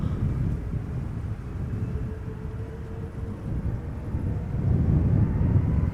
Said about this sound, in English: Silkway West Airlines Flight 9601, Boeing 747-400 going to Oslo